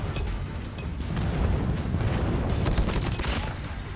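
Hip-fire gunshots in the mobile shooter COD Mobile crackle in a dense, rapid stream of bursts that runs continuously and loudly for several seconds.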